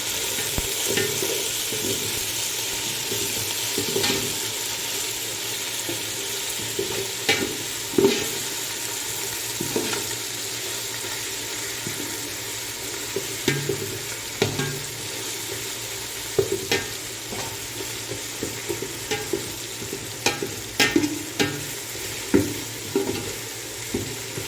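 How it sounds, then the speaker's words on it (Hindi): Browned onion frying with chili, ginger and garlic paste, sizzling steadily in a pan while a spoon stirs and scrapes in scattered clicks through the mix. "अभी हम इसमें मिर्च, अदरक और लहसुन का पेस्ट डालेंगे और इसको अच्छी तरह पकने देंगे।"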